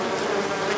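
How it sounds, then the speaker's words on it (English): Bees hum in a steady, close buzz that holds for under a second. "most of these bees, or all of them, should have found their way home"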